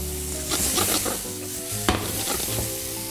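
Steak sautés in a hot pan with a loud, steady, close sizzle, broken by a few soft scrapes and shifts of the meat, and no voices.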